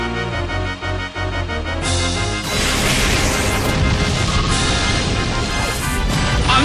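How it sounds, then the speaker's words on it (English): The Explosion attack in Pokémon Battle Revolution, a loud sustained booming crash that swells over the game's music and holds for several seconds. "Annihilated by explosion!"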